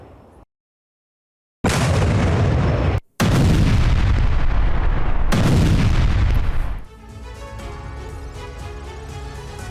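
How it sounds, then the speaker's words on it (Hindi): Russian howitzer artillery fires in loud, close booming blasts separated by abrupt cuts, followed by a lower rumbling tail with a steady tonal hum. "हौवित्जर तोप से रूसी सेना ने धावा बोला है"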